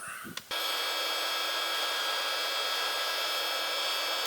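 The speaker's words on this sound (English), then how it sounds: "This is my little air blower." A small electric air blower feeding a bronze-casting furnace switches on after a brief thump and then runs with a steady, loud, close whooshing drone that holds unchanged to the end.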